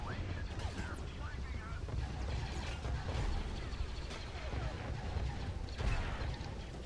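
Gunfire in Star Wars Battlefront II, with dense, crackling bursts of shots and impacts over a rumbling battle din, sustained and moderately loud, with voices mixed in.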